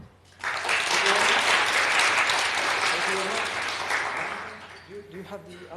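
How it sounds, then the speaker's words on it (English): A conference audience at a Linux event applauds a speaker, a full, sustained burst of clapping that starts abruptly and tapers slightly near the end. "a round of applause for Igor"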